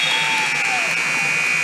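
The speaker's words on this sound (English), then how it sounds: "the buzzer sounds to end the second quarter and start us on halftime" A buzzer ends the second quarter of a junior girls' basketball game, heard as a steady electronic tone held across the moment over gym crowd noise.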